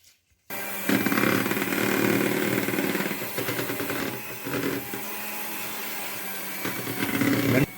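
An electric beater whirs steadily through honey cake batter of maida flour with 75 ml of sunflower oil, a loud continuous motor buzz lasting several seconds with small dips in pitch as the beaters move.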